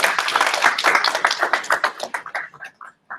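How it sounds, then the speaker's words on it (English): An audience at a workshop applauds in brisk, close clapping that thins out toward the end into a few scattered claps. "can we give another round of applause to Pauline?"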